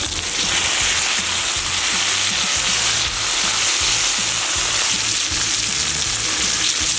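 Tomahawk steak sears in oil on a pellet grill, giving a loud, steady broadband sizzle that holds for several seconds, with faint low rumbling underneath and no voices.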